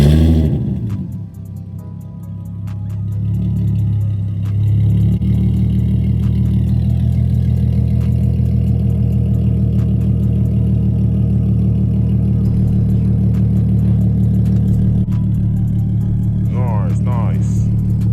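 An FBO Infiniti G37 with a loud exhaust rumbles and revs up, then holds a heavy, steady drone from close by, with voices talking over it.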